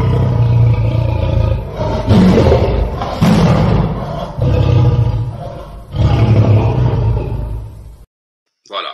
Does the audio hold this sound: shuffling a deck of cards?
no